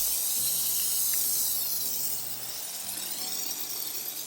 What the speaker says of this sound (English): So I'm gonna spray it on. I'm gonna see how it foams here.